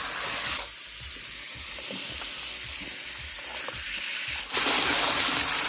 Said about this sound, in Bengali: এবার আমি এর মধ্যে এই যে ভেজে রাখা ক্যাপসিকাম আর আলুটাকে দিয়ে দেবো।